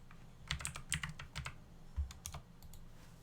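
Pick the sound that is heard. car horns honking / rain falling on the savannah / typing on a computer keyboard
typing on a computer keyboard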